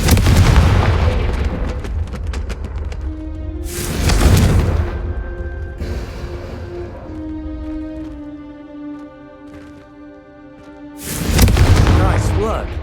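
Confringo fire spells cast in the Hogwarts video game burst as two loud, booming explosions, one early and one near the end, with a rumbling background and crackling tail between them.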